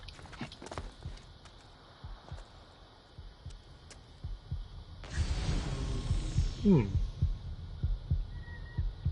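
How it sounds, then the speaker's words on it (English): A loud heartbeat effect plays in Assassin's Creed Origins, a steady thudding pulse repeating throughout, joined halfway by a louder rush of in-game noise. "I've got a really loud heartbeat as well for some reason"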